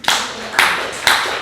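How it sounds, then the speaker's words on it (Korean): A youth worship service crowd claps in three distinct bursts, each sharp onset sustaining briefly before the next, loud and close with no talking over it. "박수 한번 주세요."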